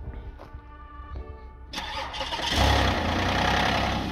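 A Toyota Avalon damaged in a crash has its engine started: starter whirs with short cranking pulses, then the motor catches and settles into a loud, steady close idle.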